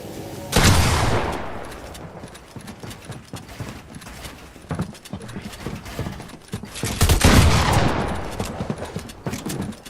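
Gunfire in a video game: two heavy, loud volleys of rapid shots, with scattered quieter bursts and clattering in between.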